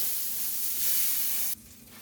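Salmon fillets frying in a pan give off a steady, fairly loud broadband sizzle with no talk, which drops sharply to a quieter hiss near the end as they are turned.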